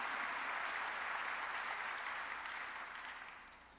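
Steady congregational applause fills a church worship service, a dense wash of many hands clapping together that holds evenly before tapering off toward the end, with no voices over it.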